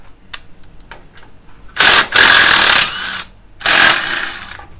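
A battery-powered tool loosens the 13 mm titanium bolt on a motorcycle's titanium starter in a workshop: a few faint clicks, then two loud whirring bursts of about a second each, close to the listener.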